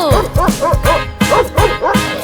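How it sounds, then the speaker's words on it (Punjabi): A cartoon dog barks and yips repeatedly in a rhythmic pattern within a farm-animal children's song, the barks loud and close over steady musical backing. "ਇੱਕ ਕੁੱਤਾ ਸੀ ਕਿਸਾਨ ਦਾ, ਨਾਮ ਸੀ ਉਸਦਾ ਬਿੰਗੋ।"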